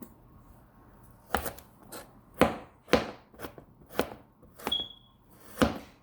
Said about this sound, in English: I'm gonna cut these up dices as very small